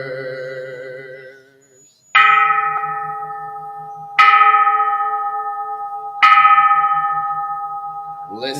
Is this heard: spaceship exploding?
no